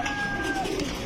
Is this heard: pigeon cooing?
yes